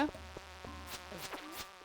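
Flies buzzing in the mines of the video game Stardew Valley, a close, steady insect drone that wavers and swells over a soft, repeating low background pulse.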